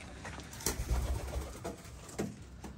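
Pigeons cooing inside a loft among open birds and fancy breeds, low soft coos repeating through the clip with a few louder bursts and some background rustle.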